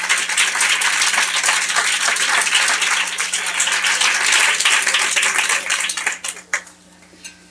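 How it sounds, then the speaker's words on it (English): A seated audience at a Libertarian Review Foundation gathering applauds two guests as they stand, a dense, steady wash of clapping for about six seconds before it thins into a few scattered claps and fades. "let's give them both a round of applause"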